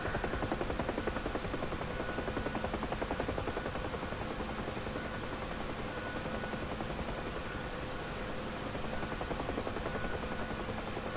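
A Huey helicopter performs a run-on landing in the DCS flight simulator, its rotor and engine producing a dense, constant, loud whirring roar with a fast rotor chop throughout and no pauses.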